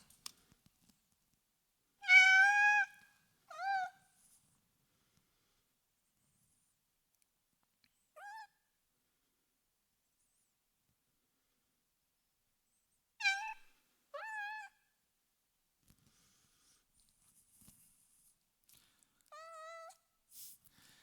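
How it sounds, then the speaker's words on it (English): A cat meows several times with long silent gaps between, clear, close and isolated, some calls short and some drawn out. "each clip represents a meow"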